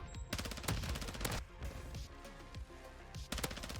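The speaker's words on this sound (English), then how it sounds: "these are some long-range gunfights" Rapid automatic gunfire from a VEL 46 in a Call of Duty: Modern Warfare II multiplayer match, dense bursts of shots with a few pauses, close and loud, no voices.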